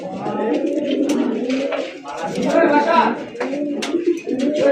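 Close, continuous cooing of a red-bar golla fancy racer pigeon, with low, throaty rolling calls repeating over a few seconds.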